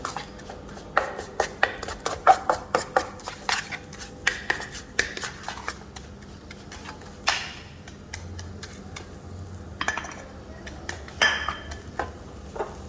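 Dried shrimp paste sambal belacan is stirred in a pan with gingery oil, a spatula scraping and knocking against the metal in irregular clustered taps over a faint sizzle, fairly close, with no voice.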